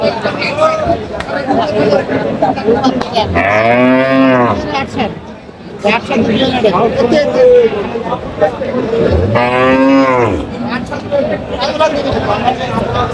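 Cows and calves at a busy village cattle market in Dinajpur, two loud drawn-out moos a few seconds apart standing out over constant crowd chatter and haggling voices.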